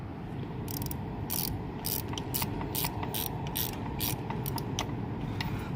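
Rapid clicking of a 13 mm socket ratchet loosening the fuel filter fitting on a Duramax LBZ diesel engine, a close, steady run of pawl ticks in short bursts over a low background hum.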